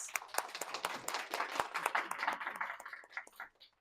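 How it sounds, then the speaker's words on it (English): An audience at a public library talk in Gatlinburg, Tennessee, claps in a brief round of applause, a dense patter of many hands fading toward the end, moderately distant and fairly faint. "Get a round of applause."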